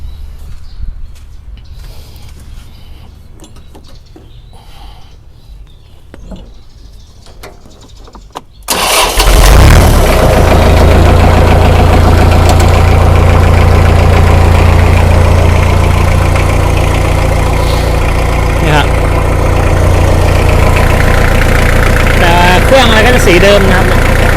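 A Kubota M5000SU tractor engine cranks and fires after a quiet stretch, then settles into a loud, steady diesel idle close by that runs to the end.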